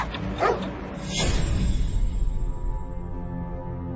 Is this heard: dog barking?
yes